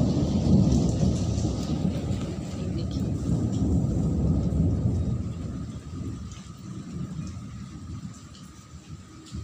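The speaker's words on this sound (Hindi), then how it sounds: "आसमान में बिजली चमक रही है, थंडरिंग हो रही है, थंडरिंग विद लाइटनिंग।" Heavy rain pours on a rainy night while low thunder rumbles and rolls, strongest early and easing toward the end, steady and close without any talk.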